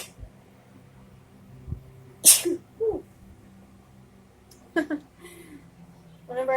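A sharp sneeze bursts out suddenly, followed moments later by another quick sneeze-like burst, with faint talking in between in a quiet room.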